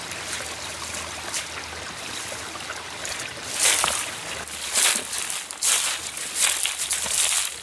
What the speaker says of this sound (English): we're kind of wandering along the creek here a little bit